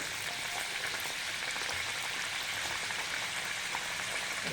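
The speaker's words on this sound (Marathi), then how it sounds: "एक दोन मिनिटं छान आपण हे कडबू तळून घेऊया व्यवस्थित सोनेरी रंगावर" Kadbu, stuffed dumplings, frying in hot oil over a medium gas flame, giving a steady, even sizzle and crackle throughout, close and moderately quiet, with no talk.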